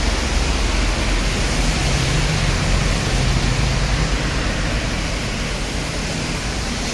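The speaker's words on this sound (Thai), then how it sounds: "ฝนตกหนัก" Heavy rain pours steadily outdoors, a dense, loud, unbroken hiss of downpour with no pauses or voices.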